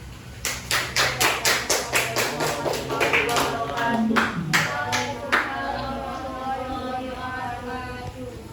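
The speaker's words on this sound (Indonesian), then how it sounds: "Silakan duduk, beri tepuk tangan." Students in a classroom clap together, starting as a quick rhythmic burst of claps that grows into a denser round and trails off, with some voices speaking over it.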